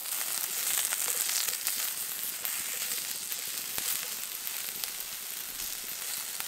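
Sweet corn and a mushroom sizzle steadily on the griddle of an EcoZoom rocket stove outdoors, a continuous close, bright frying hiss with occasional small crackles and no talking.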